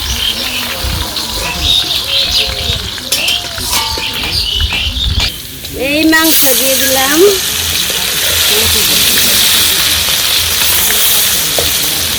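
Meat with chopped onion fries in a pan over a village-style cooking fire, a steady loud sizzle and patter that swells as the ingredients go in, with some stirring and a brief voice earlier.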